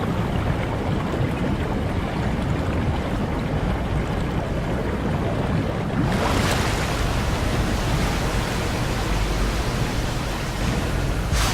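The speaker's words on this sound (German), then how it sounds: "Wasser ablassen." In the underwater game SOMA, water drains from a chamber as a loud, continuous rushing wash that carries on throughout and swells brighter and fuller about halfway through, with no talk over it.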